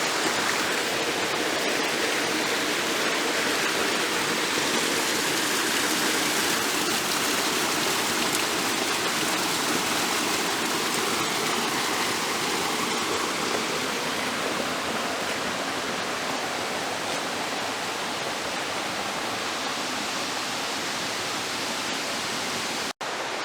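Breakneck Falls spilling down a rocky trailside ledge at low water, a steady close rushing and splashing hiss that holds unbroken and even throughout with no voices.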